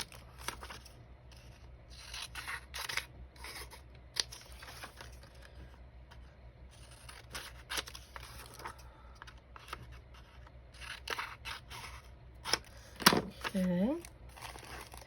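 Scissors trim the white edge off a paper sheet for a prayer journal: a run of quiet, close, crisp snips and rustles, with a brief voice near the end.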